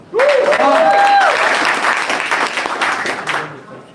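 A crowd at a hackathon final event in Tashkent bursts into loud, sustained applause that gradually thins out, with a brief voice and a whistle rising at the start.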